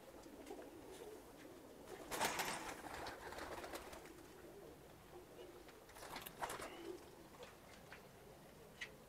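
Pigeons cooing softly at a distance, a couple of low throaty calls among faint ticks and shuffles in a quiet room.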